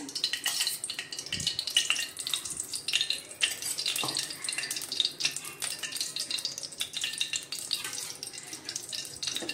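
Two spoons of ghee melt in a hot pan after dry date powder has been roasted in it, giving a soft, continuous sizzle and crackle with faint scraping and stirring. There is no talk.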